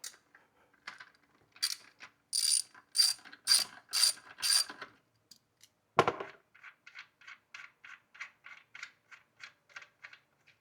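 Ratchet wrench loosening two bolts near the intake of a 2025 Subaru WRX: slow, loud clicking strokes, a sharp metallic clunk, then a faster run of lighter, even ratchet clicks.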